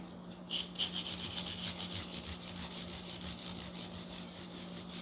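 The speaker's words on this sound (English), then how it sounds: "going up in the grits and starting to polish these frets up" Guitar frets are polished with fine grit abrasive, a soft steady back-and-forth rubbing close by that stays quiet and even throughout.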